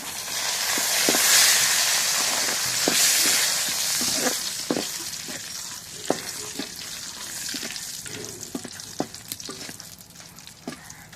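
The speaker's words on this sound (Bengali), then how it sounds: "এখন রসুন জিরা ভাজা হয়ে গেছে" Garlic and cumin sizzling in hot oil with a bay leaf, a loud steady hiss that swells early and then settles, broken by sharp spoon scrapes and stirring clinks, no voices.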